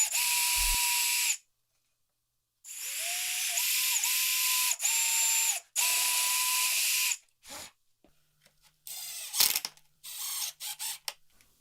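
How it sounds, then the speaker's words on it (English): A power drill countersinks screws into a wooden outdoor serving cart: several high, whining runs of the motor, close and loud, separated by pauses, ending in short bursts and clicks. "you'll notice I'm countersinking the screws pretty deep"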